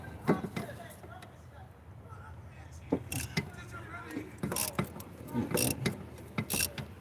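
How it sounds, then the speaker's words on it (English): A wrench works a bolt loose with a series of metallic ratchet clicks and clanks that grow busier toward the end, close and fairly faint, with a voice murmuring in the background. "I'm gonna just leave this bolt in there and then loosen the other one"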